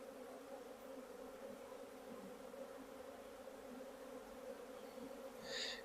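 Honeybees hum in an opened hive during an inspection, a continuous low, even drone close by and on its own, with a brief higher buzz near the end.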